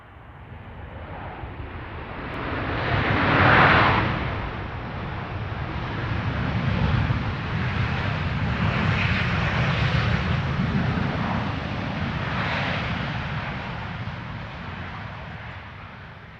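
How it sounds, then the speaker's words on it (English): A Ryanair jet landing at Stansted with its thrust reversers deployed, giving a loud, broad roar that swells early and holds steady as a rushing rumble across the runway before slowly tapering off. "Awesome reverser noise."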